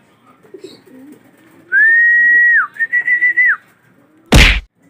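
Racing pigeons at a training release: a sustained whistling tone with a warbling second burst, soft background cooing, then a sharp loud wing clap near the end.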